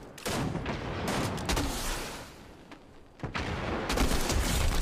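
Video game gunfire, a loud rapid barrage of overlapping shots and booms in bursts, with brief lulls between volleys and no voices.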